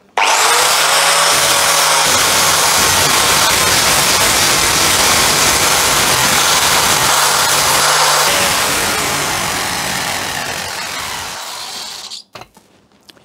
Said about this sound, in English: Now I'm going to try a flap wheel.